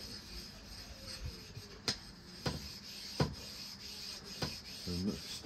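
An old kitchen knife is drawn across a flat sharpening stone in faint, evenly spaced rasping strokes, each a short gritty scrape, heard quietly up close with no talking.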